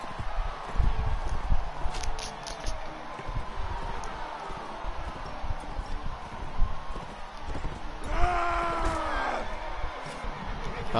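Horse hooves clip-clop in the medieval combat game Mount & Blade: Warband, a steady galloping patter mixed with battle noise, with a brief whinny-like tonal cry rising near the end.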